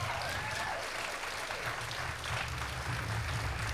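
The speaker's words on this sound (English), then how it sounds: "can we give one more round of applause?" Another round of audience applause at the Nebraska Storytelling Festival, a sustained, even clapping from a crowd that holds steady for the whole stretch.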